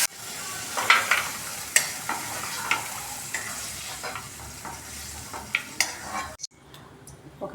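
Meal maker soy chunks stirred in a frying pan for fried rice, a steady sizzle broken by repeated sharp clacks of a spoon against the pan, close, ending in a sudden quiet.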